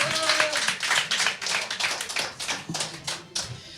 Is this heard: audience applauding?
yes